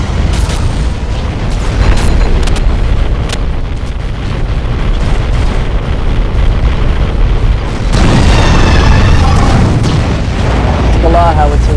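Howitzer blasts in the underwater shooter game AquaNox form a loud, continuous rumbling barrage of booms and bursts that swells near the end.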